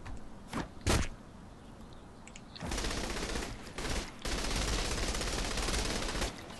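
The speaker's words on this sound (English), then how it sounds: "Because we're shooting." Gunfire in Saints Row The Third, starting with a few sharp separate shots and then long sustained bursts of rapid automatic fire, loud and close with no talk over it.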